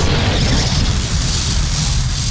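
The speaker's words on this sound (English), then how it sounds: "they have a big blue explosion." A big blue explosion effect when a computer character teleports in the video game Die of Death, a loud sustained rumbling boom that fills the whole stretch without talking.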